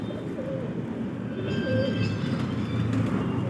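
Pet pigeons coo softly and repeatedly at close range, low throaty warbles rising and falling over a constant background hum.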